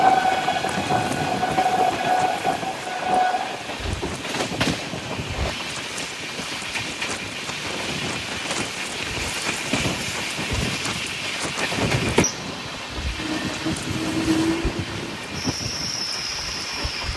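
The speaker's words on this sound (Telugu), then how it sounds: "ఇక్కడ మన ట్రైన్కి ఏదో సడన్గా ప్రాబ్లం వచ్చి సడన్గా బ్రేక్స్ అయితే అప్లై చేశారు" Devagiri Express from Mumbai CSMT to Lingampalli brakes suddenly at speed in the rain, a rumbling train interior with wheel clatter and high, thin brake squeals rising and fading, heard without talk.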